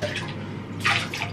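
Bathwater sloshes and splashes as a child is washed in a bathtub, a short burst of wet swishing with a brighter splash near the end, close and fairly loud.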